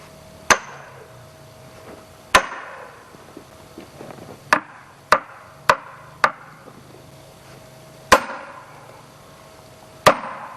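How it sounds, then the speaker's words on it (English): Sledgehammer striking a steel wedge to split a log, eight sharp ringing metallic blows spaced irregularly a second or two apart, loud and close with quiet gaps between. "Alright, sledge and wedge it."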